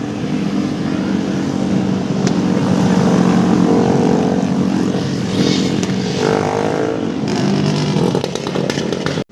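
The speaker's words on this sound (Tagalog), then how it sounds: "yung mga maingay ng mga motor." Loud buzzing motorcycle engines rev and pass nearby in a continuous roar, with a second engine swelling and fading through busy street noise in Santa Rosa, Laguna.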